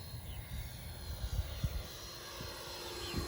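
An FMS 80mm Rafale RC jet makes a slow pass at quarter throttle, its ducted-fan whine faint and distant under wind and outdoor noise.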